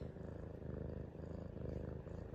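A cat curled up in a cuddle purrs softly and very close, a continuous low rhythmic rumble that pulses steadily with each breath and has no other sound over it.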